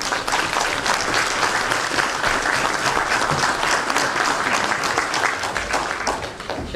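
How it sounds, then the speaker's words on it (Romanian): A concert audience applauds an accordionist at a 65th-birthday jubilee concert in Voloca, 2018: dense, steady clapping from many hands fills the hall at full strength throughout. "Vă rog să-l aplaudați."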